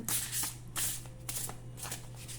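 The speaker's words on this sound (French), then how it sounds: "on va mélanger les cartes" Tarot cards being shuffled up close, a series of quick riffling bursts in a steady rhythm, soft and papery with no voices over them.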